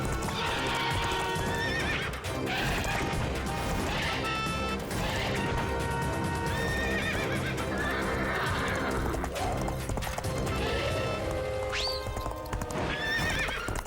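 A horse in a Honey Bunny cartoon neighs loudly while its hooves clip-clop steadily, mixed with crashes and whacks of a fight on horseback, all over a dense, continuous background score.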